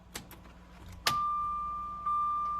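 A car's lights-on warning tone plays from a small add-on speaker as the key is switched off, a steady high beep that starts after a sharp click and keeps sounding, briefly re-triggering near the end, over faint handling noises.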